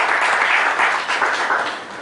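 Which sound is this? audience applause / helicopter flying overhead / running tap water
audience applause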